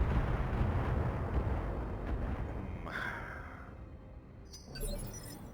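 A long-range missile volley fired by a Kitaro mech in BattleTech, a dense rumbling roar that fades out, followed by a sharp distant impact burst.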